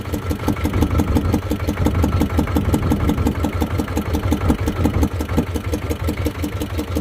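A fishing boat's inboard motor runs steadily at sea off Karaburun while red mullet nets are set, with a close, loud, even chugging throb.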